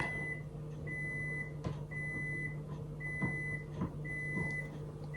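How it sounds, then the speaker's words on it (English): A microwave oven signals that soup is ready with a steady series of high beeps at regular intervals. A low hum runs underneath and faint clunks are heard now and then. "That beeping's gone on for ages."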